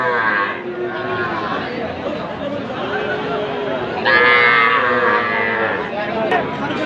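Cattle and calves at a busy livestock market low repeatedly. A louder, drawn-out moo stands out midway, and buyers and sellers talk and bargain close by.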